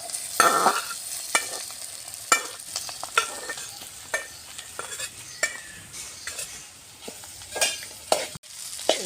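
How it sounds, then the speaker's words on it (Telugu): Okra pieces with turmeric fry in a pan while being stirred. A soft, constant sizzle is punctuated by frequent sharp scrapes and clicks of the spoon against the pan, with no talking. "ఇప్పుడు మంచిగా గోలుతున్నాయి ఫ్రై అవుతున్నాయి బెండకాయ ముక్కలు"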